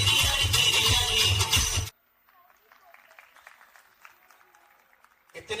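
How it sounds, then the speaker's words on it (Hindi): Loud, dense applause from a crowd at a 25th wedding anniversary celebration, sustained for about two seconds and then cut off abruptly, followed by quiet murmuring and a brief burst of clapping at the end. "इतनी तालियों से नहीं चलेगा।"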